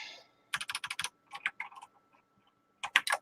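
Keys clatter on an old Tandy 1000TX computer keyboard in two short bursts of quick, close clicks separated by quieter pauses, with a brief hiss at the start and no talk.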